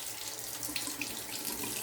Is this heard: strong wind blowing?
no